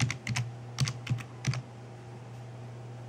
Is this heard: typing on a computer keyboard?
yes